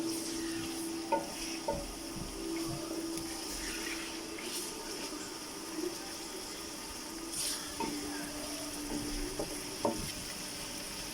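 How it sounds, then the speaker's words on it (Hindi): Chicken pieces fry in garlic-ginger paste in a karahi, a soft continuous sizzle with occasional scrapes and clinks of a spoon stirring, heard close and fairly quiet without voices. "चिकन को हम तब तक फ्राई करेंगे जब तक इसका कलर चेंज ना हो जाए।"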